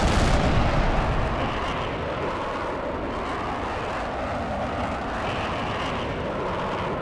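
Missile and jet aircraft combat in the video game H.A.W.X, with dense, continuous roaring engine noise and explosive rumbles that are loudest at the start, then hold steady throughout.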